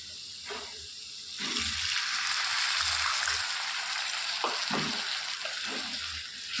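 Garlic-chilli masala for egg curry sizzles loudly in a hot oiled pan as it is stirred, with scraping spoon sounds between the frying hiss as the water cooks off.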